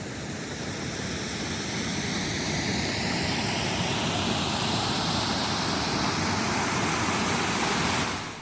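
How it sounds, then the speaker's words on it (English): Steady, broad rushing of water, like surf or a stream, near a beach on a coastal trail in Canada, constant and fairly loud throughout with no voices. "Then, faint at first, the sound of water."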